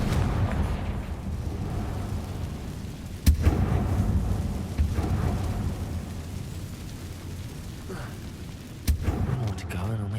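Confringo fire-spell blasts in Hogwarts Legacy land as sudden booms over a steady rumbling game soundtrack, with a couple of distinct explosive hits and speech mixed in.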